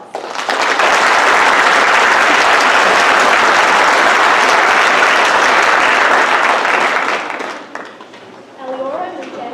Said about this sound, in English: Please give these recipients a round of applause.